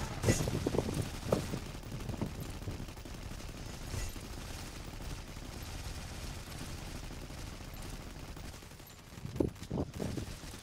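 Machine gun fire in the mobile shooter Free Fire Max, heard as faint bursts of rapid shots near the start and again near the end over a low game background, with no talking.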